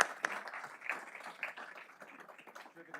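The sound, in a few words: applause for the pledgers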